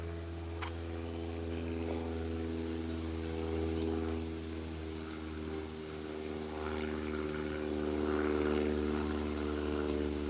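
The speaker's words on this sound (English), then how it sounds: "I hear an airplane." A propeller airplane drones overhead with a steady, low hum that holds throughout and swells slightly near the end.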